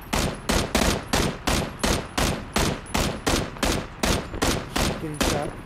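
Gunfire in PUBG, a regular string of loud, evenly spaced shots fired close together, about three per second, with no voices heard.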